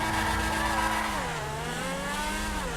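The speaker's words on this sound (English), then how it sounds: "Let's do handbrake again. Ooh, spun out." A supercar in GTA V skids and spins out under handbrake, the engine drone sliding down in pitch as the tires squeal and scrub through the slide. The sound is continuous and close, with no talking.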